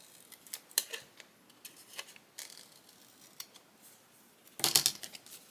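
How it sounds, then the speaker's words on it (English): Scissors snip off excess paper during a craft project, a handful of quiet, crisp cuts spread unevenly over a few seconds, ending in a louder burst of rustling snips close by. "I'm just going to cut off this extra."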